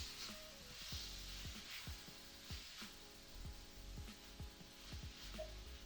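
Wilting greens stirred in a pan: a quiet, steady sizzle with soft, intermittent scrapes and taps from the utensil, no voices.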